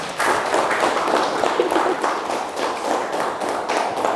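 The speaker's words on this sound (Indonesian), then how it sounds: "Kita kasih tepuk tangan untuk Soleh dan Lia." A classroom of students claps for two classmates after their presentation, giving steady, fairly close applause from a modest group with a faint rumble underneath.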